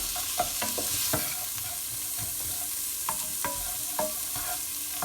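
Onions coated in garam masala spice blend sizzle in a pan as a spoon stirs them, with several distinct scraping knocks against the pan over a steady frying hiss.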